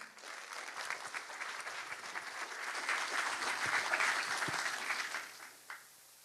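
A welcoming round of audience applause at a scholarship award ceremony, steady dense clapping from a moderate-sized crowd that swells and then tapers off near the end.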